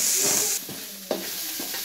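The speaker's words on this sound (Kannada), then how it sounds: "ಅದಕ್ಕೆ ಈಗ ನಾನು ಕ್ಯಾಬೇಜ್ ಹಾಗೂ ಕ್ಯಾರೆಟ್ ಅನ್ನು ಆಡ್ ಮಾಡ್ತಿದ್ದೇನೆ ಇದನ್ನು ಸಹ ಚೆನ್ನಾಗಿ ಫ್ರೈ ಮಾಡೋಣ" Shredded cabbage and carrot fry in a pan for egg noodles, a bright sizzle broken by a few quick scraping stir strokes, close and fairly loud.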